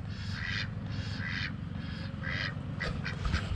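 Two ducks and ducklings at a chicken coop quack in repeated bursts over a low rumbling background, fairly close, with a livelier cluster of quacks toward the end.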